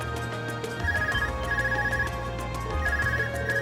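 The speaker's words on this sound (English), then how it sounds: "Is your Arcus ringing? What's it doing ringing out here?" An Arcus device ringing in the game Trails of Cold Steel: a repeating electronic ringtone of bright chiming pulses over in-game background music, steady and clear with no talk.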